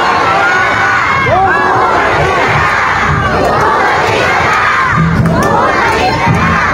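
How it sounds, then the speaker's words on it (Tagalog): A large political rally crowd in Manila shouts and cheers together loudly and continuously, a dense, roaring mass of voices with surging waves of yelling that fill the whole clip. "Kayo sumisigaw na bumalik"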